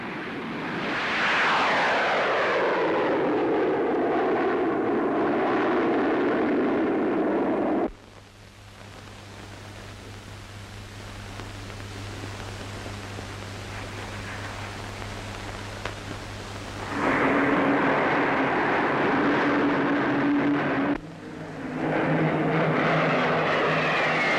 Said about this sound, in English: The Meteor, fitted with 2 Avon jets, is the most powerful fighter in the world.